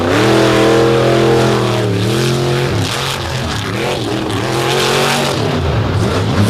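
Race car on a timed autocross-style run in Bloomsburg, Pennsylvania, loud and close, its engine revving hard, dropping and climbing again through the turns, with tyre noise as it powers through corners.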